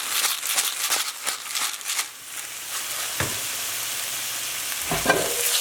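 Steak and Brussels sprouts stir-fry sizzles in a pan while being stirred, with scraping and rustling strokes in the first seconds over a steady frying hiss and a couple of sharper clinks near the end.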